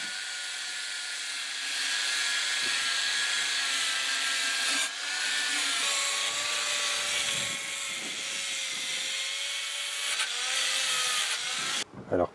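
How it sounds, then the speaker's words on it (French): A power drill whirs steadily with a high whine, its pitch dipping and shifting as the wire brush scrubs against rusty steel, ending abruptly. "je vais passer un coup de brosse métallique sur perceuse"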